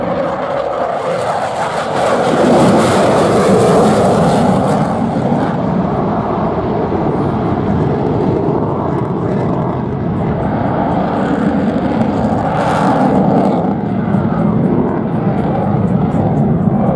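Dassault Rafale Marine jets split apart during an air display, a loud sustained broadband jet roar that swells at about two seconds and surges again near twelve seconds, filling the whole clip.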